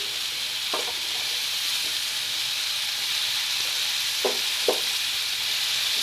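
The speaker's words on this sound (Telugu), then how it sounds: "టమాటాలు ఎగిపోయాయి కదా ఫ్రెండ్స్ ఇప్పుడు ఉల్లికాడలు వేసుకుందాం" Spring onions and tomatoes fry in a pan with a loud, steady sizzle and hiss, broken by a few soft stirring scrapes.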